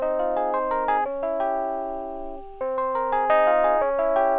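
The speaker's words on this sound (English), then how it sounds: "So this is the Rhodes track that I had." Rhodes electric piano track in Ableton, a clean, bell-like keyboard part of repeated chords and short melodic notes in a steady rhythm, played alone without talk.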